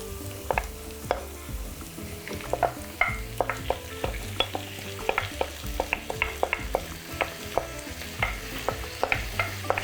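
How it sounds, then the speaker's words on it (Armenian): Marinated cabbage frying and sizzling in a pan while being stirred, with a steady hiss and repeated scraping clicks of a utensil against the pan, close and moderately loud. "Վերադառնանք տապակին, լցնում ենք կարելի ասել մարինացված կաղամբը"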